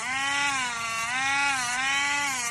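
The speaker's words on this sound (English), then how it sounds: "Use these fingers that are holding the Dremel to stabilize my hand." Dremel rotary tool grinding a dog's nails, a close, steady high-pitched whine that wavers slightly in pitch as the tool meets the nail, heard alone.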